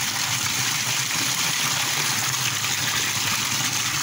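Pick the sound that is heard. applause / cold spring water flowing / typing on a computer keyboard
cold spring water flowing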